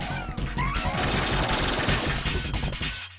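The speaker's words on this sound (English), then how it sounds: "And there he was shooting at me." Gunfire from the boss Fatman during a battle in Metal Gear Solid 2, a dense, loud burst of rapid shots and crashing impacts that runs steadily for about three seconds with no talk.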